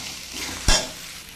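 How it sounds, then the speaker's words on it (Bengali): Ground coconut being stirred and fried in a pan, a soft continuous sizzle with one sharp scrape of the spoon partway through, close and quiet. "এভাবে নেড়ে চেড়ে নারকেলটাকে একটু ভেজে নেব"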